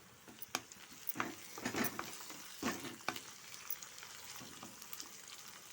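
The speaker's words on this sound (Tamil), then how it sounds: "அப்படியே ஒரு 3 நிமிஷம் வதங்கிட்டு ஃப்ரெண்ட்ஸ்" Tomato and curry leaves sautéing in a pan give a quiet, crackling sizzle, with a few sharp scrapes and clinks of a spoon stirring against the metal up close.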